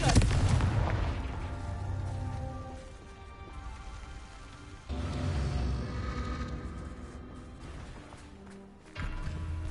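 Confringo fire-blast spells explode in Hogwarts Legacy, with three booming bursts at intervals, each followed by a crackling, rumbling decay amid combat noise.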